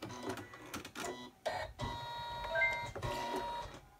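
An embroidery machine stitches out a stuffed toy design, a steady mechanical whirring and chattering with rapid needle strikes, fairly close and continuous with a few brief pauses.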